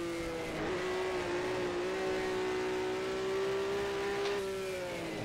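A race car engine in the racing sim rFactor 1 holds a steady, droning high note that rises slightly as it accelerates on the Targa Florio road course, close and continuous with no talk.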